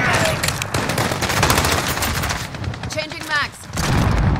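Rapid bursts of automatic gunfire from a Call of Duty Modern Warfare team deathmatch, loud and dense, with a brief lull before the shooting resumes.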